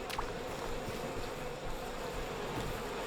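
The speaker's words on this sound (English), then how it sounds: "They turned the chest into a beehive." Bees swarm around a beehive in the video game We Happy Few, making a steady, dense, close buzzing drone that holds for a few seconds with no talk.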